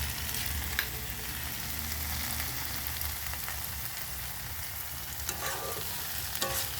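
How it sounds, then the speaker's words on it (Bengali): Leafy greens frying and being stirred with asafoetida in a pan give a steady, close sizzle with soft scraping strokes throughout. "একটু ভাজা ভাজা করে নেওয়া হবে"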